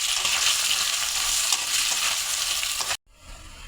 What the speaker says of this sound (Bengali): এবার সবগুলো একসঙ্গে ভালো করে ভেজে নেবো।